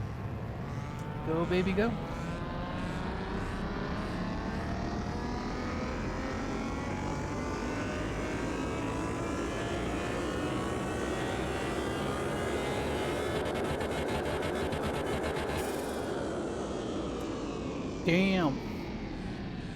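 A tuned Nissan GT-R R35 making about 938 horsepower revs hard and accelerates, its engine droning loud and steady for the whole stretch with rising pitch sweeps, while a man briefly cheers and swears over it.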